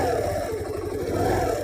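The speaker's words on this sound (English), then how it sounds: "this is the sound of the TVS Jupiter" TVS Jupiter scooter engine revving briefly, a steady buzzing mid-pitched drone held at moderate volume.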